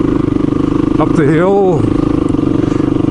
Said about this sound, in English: Them old KLRs are back in their element here, kind of motoring right around them turns.